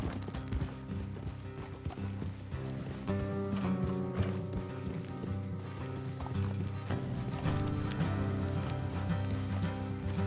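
Steady clip-clop of horse hooves at a trot in the video game Red Dead Redemption, layered over continuous background music with no talking.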